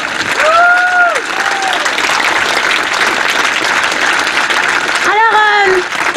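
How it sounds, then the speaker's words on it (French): Audience applause at an outdoor performance in a park, a steady wash of clapping throughout with whoops and voices rising over it, loudest near the start and end. "Encore applaudissements pour Théo"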